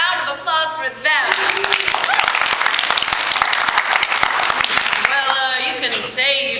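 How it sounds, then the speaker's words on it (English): A high school spring play audience breaks into a loud, dense burst of clapping that fills most of the clip, framed by a voice speaking briefly before and after. "May we have another round of applause for them."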